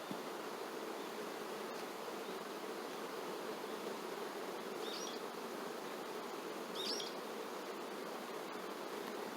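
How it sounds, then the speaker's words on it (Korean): Honeybees swarm at an open beehive around a brood frame, producing a steady, dense buzzing that stays close and continuous throughout, with no voices. "비교적 지금 벌이 좀 순하죠"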